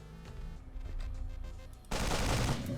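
Gunfire in the video game Sword of the Stars: The Pit, a run of quick muffled shots over a droning background, then a sudden loud blast of noise that holds to the end.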